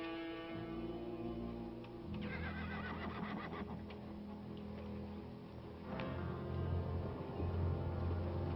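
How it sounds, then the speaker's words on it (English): Horses neigh and whinny repeatedly over faint hoof movement in an outdoor Western setting, moderately close with a couple of louder calls toward the end. "Tell Dobie to get the horses."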